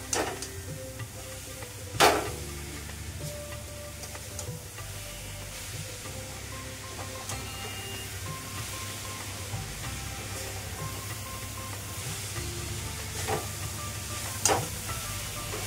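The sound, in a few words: stirring coconut vadi mixture cooking in a pan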